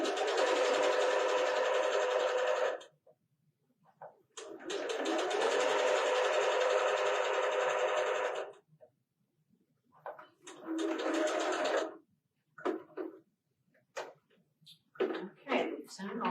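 Domestic sewing machine stitching a pillowcase for a quilting project, running in two long steady bursts of a few seconds each, then a shorter run broken by pauses and small handling clicks near the end.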